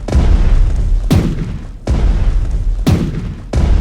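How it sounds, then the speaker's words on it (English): Battleship guns firing in the naval strategy game Strategic Mind: loud, booming blasts repeated about every second and a half, each a heavy rumbling roar with no talk over it. "Both of them are using secondary guns right now."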